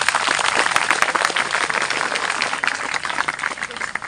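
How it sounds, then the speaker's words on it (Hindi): Students at a 20-day ITI training camp applaud in a loud, steady wash of clapping that fills the space at a fairly even level throughout. "उन सब के लिए जोरदार तालियां बजा दो भैया"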